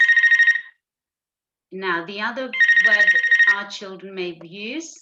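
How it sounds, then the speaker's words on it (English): A telephone rings during a KS1 phonics workshop with a bright electronic trilling: one short burst alone, then a second longer burst under a speaking voice, with talk continuing around it. "apologies for the phone ringing"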